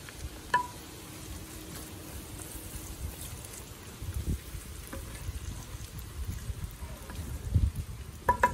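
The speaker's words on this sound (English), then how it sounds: "we're going to add our diced onions." Diced onions and celery sauté in melted butter on a Big Green Egg, giving a steady, moderate crackling sizzle throughout with a few faint clicks and no talking.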